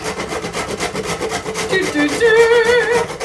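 Fresh nutmeg is ground in a grinder, giving a close, loud rhythmic rasping and grating that builds over a few seconds, with no talk.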